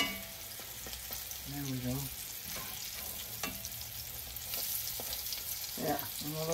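Salmon cakes fry in a pan with a steady sizzle throughout, and a spatula scrapes and clinks now and then. A voice speaks briefly in the middle.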